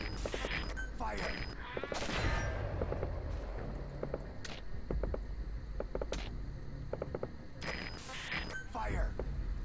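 Gunfire crackles in Metal Gear Solid V: The Phantom Pain, bursts of sharp shots and fusillades repeating at intervals over several seconds, mixed with a radio-style voice and other speech.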